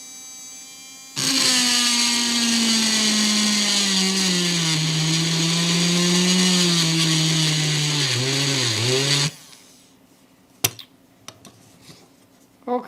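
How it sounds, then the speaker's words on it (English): An electric engraving pen cutting into a metal wrench gives a loud, steady high-pitched buzz that runs about eight seconds, wavering slightly in pitch near the end, then cuts off to quiet handling clicks. "let's try the metal on this wrench and see how it does on this"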